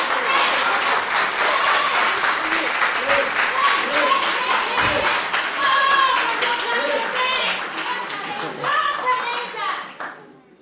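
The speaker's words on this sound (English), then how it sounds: "A round of applause for them." Applause at a junior high school quiz competition, loud dense clapping from a young crowd with cheering voices, sustained for several seconds before tapering off.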